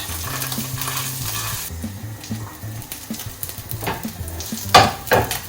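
A sea bream fillet fries skin-side down in a hot pan, giving a steady close sizzle with light crackle and a few sharp pops and scrapes near the end.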